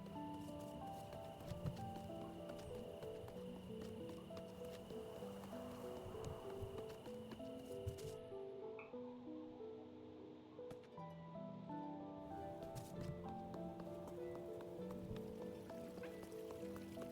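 Horse hooves clip-clop steadily in the period video game Little Miss Goody Two Shoes, a soft, even rhythm sitting under a gentle melodic music bed. There is no speech.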